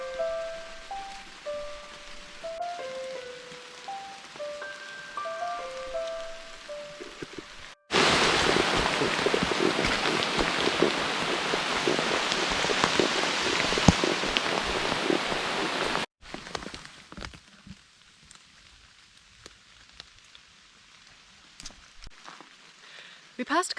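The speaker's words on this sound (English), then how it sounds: "I have been rained on" Rain falls steadily on the Cape Chignecto Coastal Trail, a dense hiss of drops that comes in abruptly and holds for several seconds, set between quieter stretches with a melody and faint voices.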